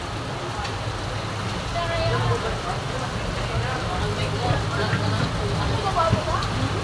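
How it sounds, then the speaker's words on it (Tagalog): Dense, steady hiss of heavy rain pours without letup, loud and close, with faint voices and scattered knocks underneath. "Napakalakas ng ulan guys."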